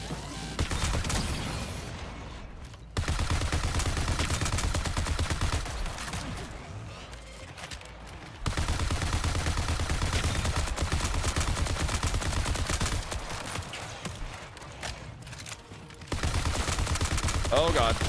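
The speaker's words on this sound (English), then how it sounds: "This gun is making it so much easier though." Sustained bursts of rapid automatic gunfire from the video game Marathon, loud and dense, run in long stretches broken by short pauses, with a voice talking over parts of it.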